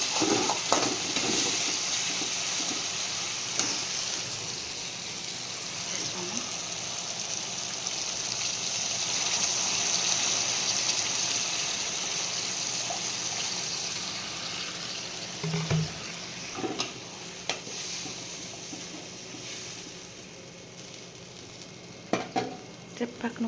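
Pork and beans simmer and sizzle in a pot, a steady close bubbling hiss with occasional stirring scrapes and clinks, no voices.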